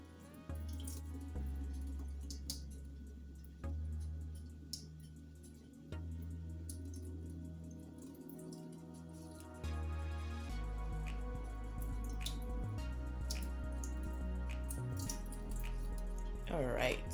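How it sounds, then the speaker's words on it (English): Water draining from washed quinoa in a kitchen sink, a steady running trickle with drips and splashes, close and moderately quiet, with a low hum underneath. "So carefully drain the water."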